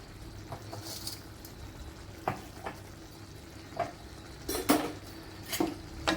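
Nethili anchovy dry fish thokku stirred in a pan with a metal spoon: a few scattered scrapes and clinks against the pan, faint and close, with a soft cooking hiss underneath and no talking.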